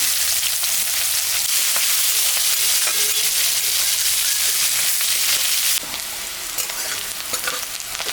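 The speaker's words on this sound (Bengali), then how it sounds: "মাছ ভাজা তেলের উপরে শুকনো লঙ্কা জিরা সম্বলা দিলাম দুটো তেজপাতা দিয়ে দিলাম পেঁয়াজও দিয়ে দিলাম" Onion, dried chilli, cumin and bay leaves fry in fish-frying oil with a loud, dense, close sizzle. The sound drops slightly in level partway through but stays steady, and no one talks.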